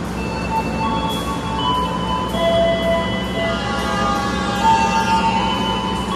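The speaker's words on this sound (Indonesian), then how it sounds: "Ini Gajayana berangkat lagi" Gajayana passenger train departing a long station platform, a low steady rumble with faint tonal squeals and whistles on top, continuous and moderately loud with no talk.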